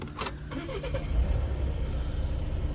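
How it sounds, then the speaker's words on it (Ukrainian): A few clicks as a 2015 Volvo S80 2.0 D4 diesel with automatic transmission cranks and catches, then settles into a steady low idle rumble close by. "дивіться, як заводиться автомобіль"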